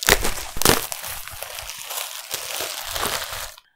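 Paper packaging from a haberdashery fabric order crinkles and tears as it is unwrapped up close, with repeated rustling crunches and a couple of louder rips, then silence.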